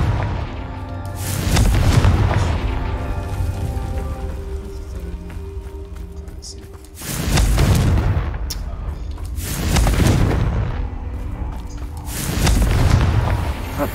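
Confringo fire spell blasting in Hogwarts Legacy, three heavy booming explosions in a row, loud and close, each with a rumbling low tail that fades between hits.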